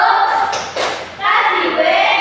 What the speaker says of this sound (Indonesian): Pakai tepuk wow nggak? Oke, tepuk wow.